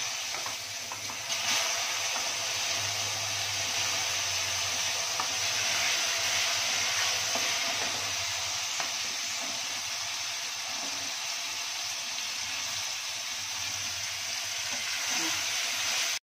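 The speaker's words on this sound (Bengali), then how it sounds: "এবারে আমি কুলগুলো একটু একটু করে দিয়ে দিচ্ছি কড়াইতে," Jujube (kul) berries fry in a wok, giving a loud, unbroken close-up hiss and sizzle that runs the whole length without any voices.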